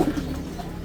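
Pigeons cooing briefly at a bird keeper's loft of newly acquired pigeons, a soft low coo right at the start followed by faint, steady background murmur.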